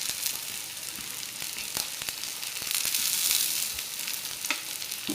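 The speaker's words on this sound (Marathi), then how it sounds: "ते पण चांगलं परतून घ्यायचं." Chopped tomatoes sauté with onion and ginger-garlic paste in a pan for bitter gourd tikka masala, giving a steady, close crackling sizzle punctuated by sharp spatula clicks and scrapes, with no voices.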